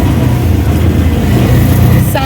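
A Wagon R car engine running steadily and close, a continuous low rumble throughout with a brief higher sound near the end.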